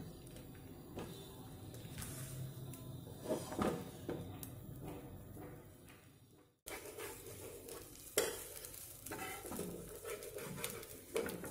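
Coconut poli, a sweet stuffed flatbread, sizzles in oil on a dosa griddle with soft continuous crackle, broken by a brief pause and a few light clatters of a spatula near the pan.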